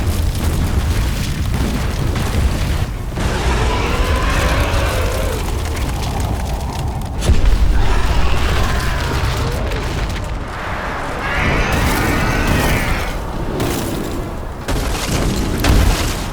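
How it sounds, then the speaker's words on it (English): Violent steam explosions as a blue flare meets cold air, heard as a continuous heavy roaring rumble with repeated deep booming surges and hissing bursts, loud and dense throughout with no speech. "Blue flare collides with cold air, causing violent steam explosions."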